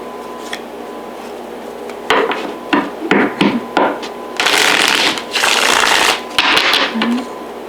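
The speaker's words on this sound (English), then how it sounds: "Let me go ahead and shuffle." Cards are shuffled up close in several bursts: quick riffling flutters and longer rippling sweeps, loud and crisp.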